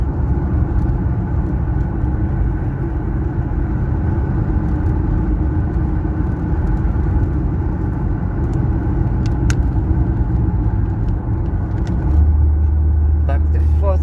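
A vehicle rolls downhill in fourth gear on the flood-damaged R62 road, its engine holding back the car with a steady low rumble and road noise throughout.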